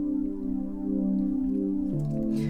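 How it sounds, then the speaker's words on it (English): Deep layered supersaw synth tones, cut off and lightly phased, hold a sustained low chord that shifts to a lower note near the end, with a slow phasing sweep across the sound. "It's just a couple of supersaws cut off"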